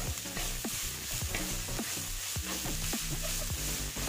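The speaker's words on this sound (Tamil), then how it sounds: "சேர்த்துட்டு நல்லா கிளறி விட்டுக்கிறேன்." Grated raw plantain stirred into fried onions in a pan for plantain poriyal, giving a continuous soft sizzle with repeated scraping strokes of a spatula at an even rhythm.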